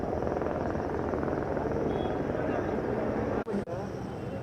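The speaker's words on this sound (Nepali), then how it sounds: "यहाँ हेलिकप्टर आएर नि गएको अवस्था छ।" Helicopter flying over flood-hit Melamchi in Sindhupalchok, a steady broad rotor and engine roar holding at constant loudness, with two brief dropouts near the end.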